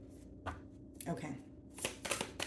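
Tarot cards being shuffled, brief faint riffling bursts in quick succession, soft and close.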